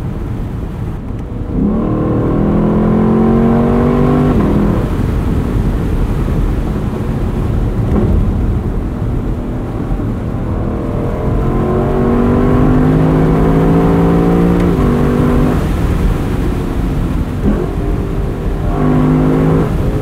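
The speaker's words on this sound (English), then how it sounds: "Listen to those vicious downshifts." A 2021 Lexus LC 500 Convertible engine roars loudly while driving, with rising revs through gears and sharp blipping downshifts, the pitch climbing and dropping several times amid heavy road and wind rumble.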